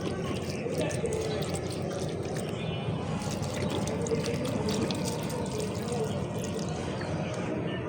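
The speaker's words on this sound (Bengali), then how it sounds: "এই যে আমার গাছে পানি দেওয়া হচ্ছে" Water poured onto potted plants in a steady, continuous splashing stream, close and fairly loud, with no voices.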